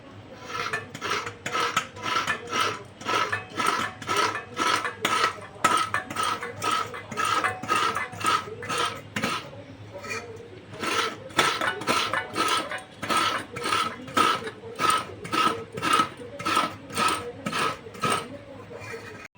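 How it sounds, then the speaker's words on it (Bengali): Coconut being scraped by hand with a grater for a masala dosa, a steady rhythmic rasping of repeated strokes at close range, with a short pause midway before the scraping resumes. "আমি এখানে নারকেলটা কুড়ে নেবো"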